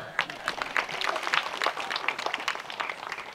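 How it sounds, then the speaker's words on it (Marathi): An audience at a public lecture breaks into applause, a dense, steady patter of many hands clapping at moderate distance that continues for several seconds. "मग वाजवा की टाळ्या"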